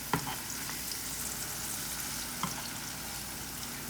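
Food browning in a hot pan for a neo soul noodle bowl, a steady close sizzle and crackle with a couple of brief utensil knocks near the start and middle.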